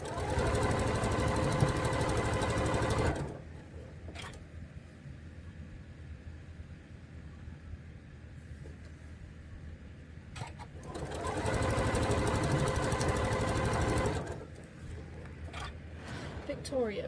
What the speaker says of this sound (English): I'm just kind of sewing along